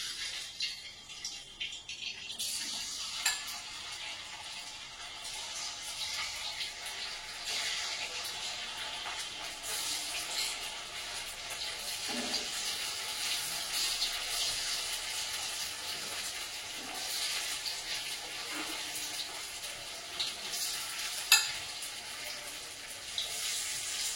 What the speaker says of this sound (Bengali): তেলটা গরম হয়ে গেছে, এবার এক এক করে ফুলকপিগুলো ছেড়ে দেবো।